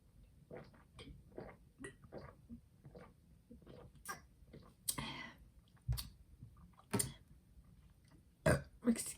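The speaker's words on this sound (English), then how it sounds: "There might be burping in this video." After drinking raw mango kombucha, a person lets out a soft burp in a quiet room, mixed with faint clicks and small mouth sounds, all low in level.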